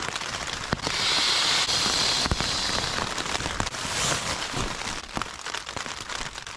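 Cold rain falls outdoors near freezing, a dense hiss of drops with sharper pattering hits on nearby surfaces, steady and fairly close throughout.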